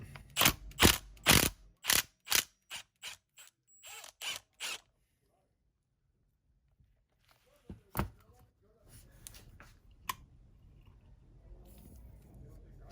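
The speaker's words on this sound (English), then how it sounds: "You just need a 6 millimeter Allen to get the detent spring and ball out." A 6 mm Allen key works a detent spring and ball out of a Marlin Crawler dual transfer case, with a quick run of sharp metallic ratcheting clicks, then a pause and scattered clinks and handling noises close by.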